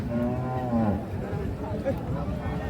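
A Holstein Friesian cow lows once at a busy rural cattle market, a drawn-out moo near the start followed by a shorter call, with crowd chatter behind.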